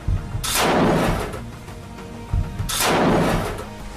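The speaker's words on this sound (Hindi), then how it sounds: "इन लड़ाकों के हाथों में मशीन गन होती हैं, जिससे दनादन फायरिंग हो रही है।" Gunfire in combat in Gaza as fighters ambush an Israeli military vehicle: two heavy, loud booming blasts about two seconds apart, each with a long rumbling decay over a constant background roar.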